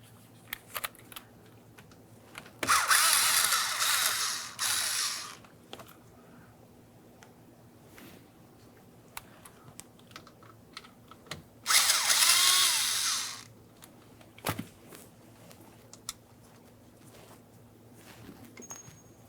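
Power driver removing two T20 Torx screws from a 2006-2012 Ford Fusion combination switch, two loud whirring bursts of about two seconds each, separated by quiet handling clicks.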